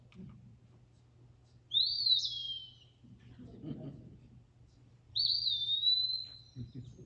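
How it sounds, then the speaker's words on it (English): Eastern Wood Pewee, a flycatcher related to the Eastern Phoebe, sings two clear, fairly loud slurred whistles several seconds apart over a low steady hum and soft background murmur. "This is another flycatcher related to the Eastern Phoebe, but this is an Eastern Wood Peewee."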